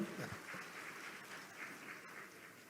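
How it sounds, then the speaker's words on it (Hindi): Steady applause from a crowd at a Birsa Munda 150th birth anniversary event, a dense patter of clapping that holds evenly throughout without voices over it. "जोरदार तालियों से महोदय का अभिनंदन करें"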